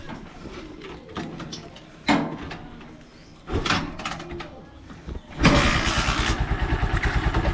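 A Honda Supremo motorcycle is kicked over with several short mechanical clunks and failed turns, then the hard-starting engine catches and settles into a steady, close, pulsing idle.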